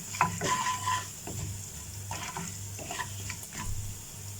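Chopped medium onion sizzles in a pan over roasted spices for palak paneer, a steady close frying hiss broken by the scrape of stirring.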